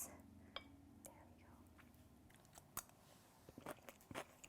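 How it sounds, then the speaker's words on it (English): Stir-fried Chinese broccoli (gai lan) in oyster sauce with garlic is chewed close to the mic, producing a string of sharp, crisp crunches and bites that grow denser toward the end over a faint, hushed background. "You can hear how crunchy that is."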